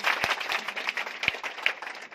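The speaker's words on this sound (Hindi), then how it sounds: "एक बार प्लीज अपने लोग पर और ताली दे प्लीज" A small seminar audience gives scattered, quiet applause, with a few sharper individual claps standing out from a thin patter of hands.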